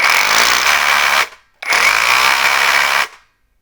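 Parkside cordless rotary hammer drill roaring loudly in two steady bursts, a short pause between them, each ending as the motor winds down, with no talking.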